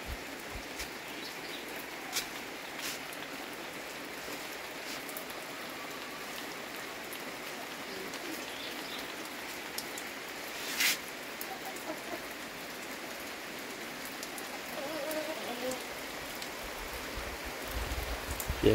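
Steady rain falls on a rural farm property on a winter morning, a continuous even hiss with scattered drops and faint background birds, no voices.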